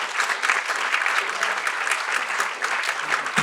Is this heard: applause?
yes